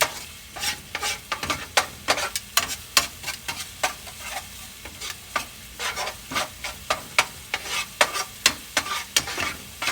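Garlic, red pepper and onion sizzling in olive oil in a pan over medium heat, a steady frying hiss broken by repeated scraping strokes of a utensil as the mix is stirred.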